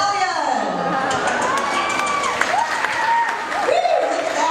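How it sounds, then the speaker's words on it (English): Circus crowd clapping and cheering for Lucky Star, a wild stallion, at Circus World: a burst of applause with whoops and children's shouts, under an announcer's voice. "Let's have a big round of applause for Lucky Star."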